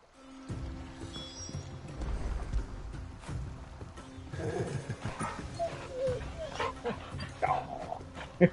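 Torgal, the dog companion in Final Fantasy XVI, gives a few short barks and yips over game music and rustling effects, moderately loud and close.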